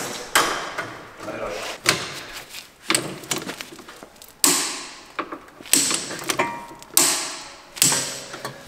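GEDORE special tool tightening a car tie rod: repeated ratcheting clicks and metallic creaks come in a series of strokes roughly every second, close and fairly loud, with low mechanical scraping between them.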